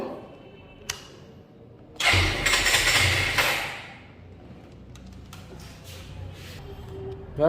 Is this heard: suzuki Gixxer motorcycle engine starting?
yes